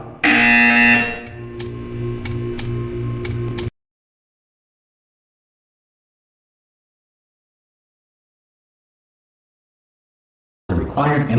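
A loud, harsh electronic buzzer sounds in a video game, pulsing with sharp repeated ticks before cutting off abruptly into several seconds of silence, then returning in a brief loud burst.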